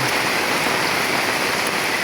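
Heavy rain from a shearline storm pours down steadily at a barangay in Tuaca, a dense, unbroken roar of water with no voices.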